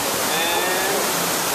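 Water pours steadily from a portable water filter into a 750-milliliter container, a continuous close splashing rush with no talk.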